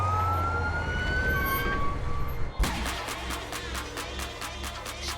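An ambulance siren wails loudly at close range, first as a steady rising tone and then as a rapid pulsing yelp, with no talking over it.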